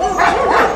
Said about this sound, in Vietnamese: sáng sớm tụi nó ra tụi nó sủa rùm beng hết á